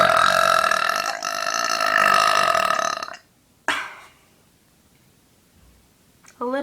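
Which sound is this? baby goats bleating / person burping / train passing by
person burping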